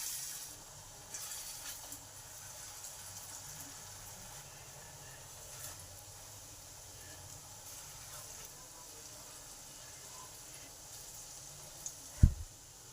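Raw jackfruit shami kebabs shallow frying in a hot pan give a faint, steady sizzle throughout, with one sharp clack near the end.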